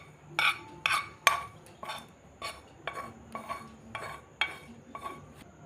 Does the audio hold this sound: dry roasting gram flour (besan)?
yes